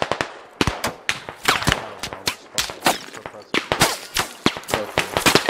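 Rapid gunfire rattles through a Squad match on the Yehorivka map, with dense bursts of sharp, loud shots and echoing cracks firing in quick succession with almost no pause.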